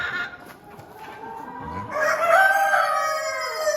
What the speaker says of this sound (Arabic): هذا دجاج اليوم